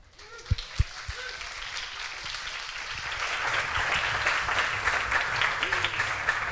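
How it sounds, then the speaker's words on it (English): An audience applauds at a brand innovation challenge event, starting with a few separate claps and building into sustained, dense clapping that fills the room. "Crowd goes wild."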